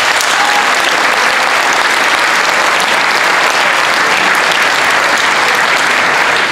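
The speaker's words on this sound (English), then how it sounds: "So please round of applause for him as well." Sustained, dense applause from an audience at a school athletics awards night, honouring a departing swimming coach; steady and full throughout with no talking.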